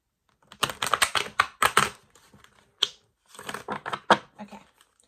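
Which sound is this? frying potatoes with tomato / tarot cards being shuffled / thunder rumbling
tarot cards being shuffled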